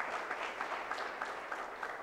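An audience at a project competition prize event claps for the presenting groups, a brief, steady patter of applause heard from a moderate distance.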